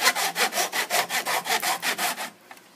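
A hand saw cuts through wood molding along a brace in quick, even back-and-forth strokes, about a dozen rasping passes close by, then stops; no voices.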